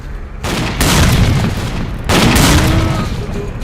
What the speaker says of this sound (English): Here, catch a grenade!